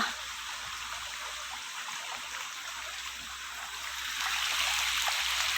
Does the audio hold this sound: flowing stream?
yes